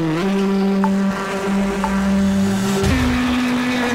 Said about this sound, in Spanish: El coche seleccionado es un Toyota Yaris y a darle caña.